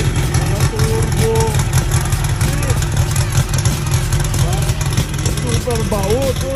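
Turbocharged Volkswagen Beetle engine running steadily with a low, throbbing rumble at close range, while people talk over it throughout.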